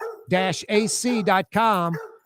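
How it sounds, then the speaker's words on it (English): A dog barks and yips in several drawn-out, whiny bursts, close by, with short pauses between them. "That's Blue Boy barking up a storm."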